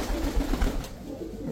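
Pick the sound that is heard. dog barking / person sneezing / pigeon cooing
pigeon cooing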